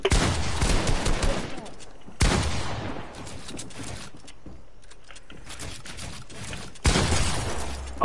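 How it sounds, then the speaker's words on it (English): Gunshots in a video game ring out in three loud, sharp bursts, each followed by a decaying tail, separated by quieter stretches with faint background sound and occasional speech. "Oh, I didn't mean to shoot at you."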